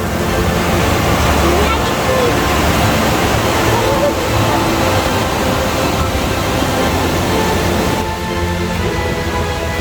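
A river swollen by cyclone floodwater on Réunion roars loudly and continuously, a dense broadband rush that holds steady for the whole stretch and drops slightly near the end.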